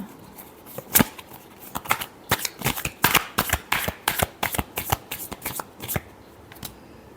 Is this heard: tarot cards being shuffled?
yes